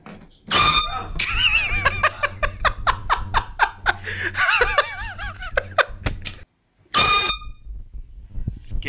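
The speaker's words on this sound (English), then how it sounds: "And now it's time for a montage of air horn scares." Loud air horn blasts go off as scares, one early and another near the end, surrounded by laughter, giggling and excited voices.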